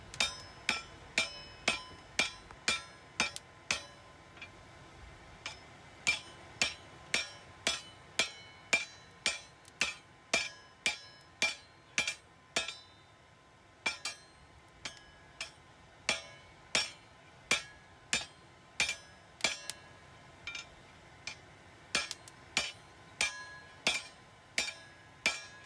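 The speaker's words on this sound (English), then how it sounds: "Now using the club hammer." Steady series of sharp metallic strikes from a club hammer on a scrap-metal knife blade, about one per second, ringing briefly against a quiet background.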